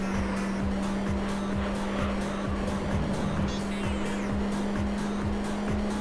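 Race car in the video game Gran Turismo 3, engine droning steadily at a constant pitch with repeated rhythmic tire squeals and skids as the car weaves, continuous and loud with no talk.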